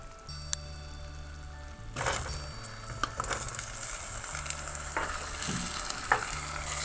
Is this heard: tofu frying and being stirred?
yes